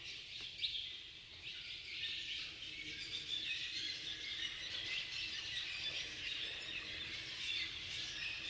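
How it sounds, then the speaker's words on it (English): Swallows nesting inside Carlsbad Caverns chirp and squeak in a dense, continuous chorus of many birds, steady and fairly faint, echoing in the cave with no voices. "There are a ton of birds in here, and you can smell them."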